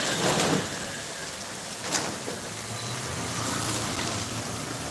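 Heavy rain pours down steadily at night in a dense, continuous hiss, briefly swelling louder at moments, with no voices.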